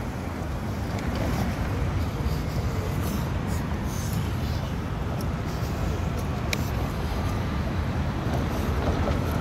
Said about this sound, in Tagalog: Ayun na nga, tren.